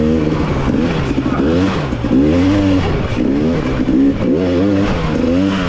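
A 2021 GasGas 300 EC dirt bike engine works hard on a trail bike track, its two-stroke note revving up and down repeatedly, loud and close throughout.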